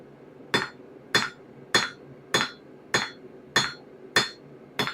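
Hammer blows ring on a broken anvil while a dagger is forged: eight sharp, clanging strikes at a steady pace about every 0.6 seconds, close and loud, with no talking.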